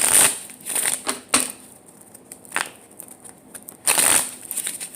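Tarot cards being shuffled by hand, a series of quick crisp riffling bursts separated by short pauses, close and fairly soft with no talking.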